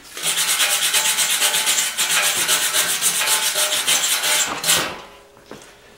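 A wire brush scrubs hard and continuously across a steel weld on a racing tractor frame being built, a loud, steady rasping that runs for several seconds before cutting off, followed by a couple of faint scrapes.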